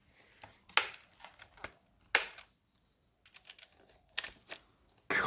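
Keys of an old 2008 Dell computer keyboard clatter as they are pried off and handled during cleaning, in a few separate bursts of sharp clicks and rattles close by, with short quiet gaps between them.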